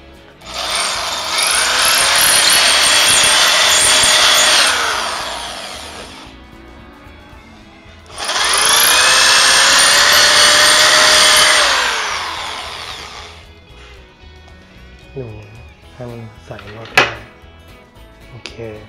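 Two long bursts of a power drill whining at high speed while drilling a plant shelf for bolts, each spinning up, holding, then winding down, followed by quiet clicks and a brief voice.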